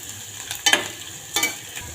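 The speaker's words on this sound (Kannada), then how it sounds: "ರುಬ್ಬಿದ್ದಂಥ ಮಸಾಲೆ ಹಾಕ್ಕೊಂಬಿಡೋಣ ರೀ. ಸ್ವಲ್ಪ ಎಣ್ಣೆಯಾಗ ಫ್ರೈ ಆಗಲ್ರಿ." Ground masala paste frying in a little oil for buttermilk sambar, a close, bright sizzle with two sharper bursts of spattering as the paste is stirred, no talking.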